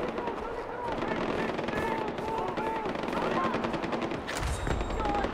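Rapid bursts of automatic gunfire in Far Cry 4, a busy rattling barrage of shots layered with game effects and a player talking over it, plus a sharp louder blast near the end.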